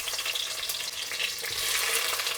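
A mix of small and large onions with chopped garlic sizzles and fries in a pan, a steady crackling hiss with light stirring scrapes, moderately close and without talk.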